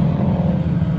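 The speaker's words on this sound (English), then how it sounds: "The race car noises are excellent." Cheap endurance race car at a 24 Hours of Lemons event, a loud, close, steady engine drone with a strong low hum, held briefly without a clear rev rise.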